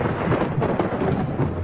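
Steady rain with a low thunder rumble fills the scene, a dense continuous wash heard at constant loudness with no voices.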